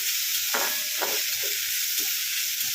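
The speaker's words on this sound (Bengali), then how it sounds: "দিয়ে এখানে এটাকে ভালো করে মেলাবো, একদম লাল করে ভেজে নিতে হবে।" Plenty of chopped ginger fries in hot oil for shahi soya, a dense, constant close sizzle with a few soft scrapes and thuds of stirring rising briefly above it.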